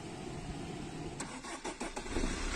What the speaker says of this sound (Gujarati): પાછું એન્જિન સ્ટાર્ટ કર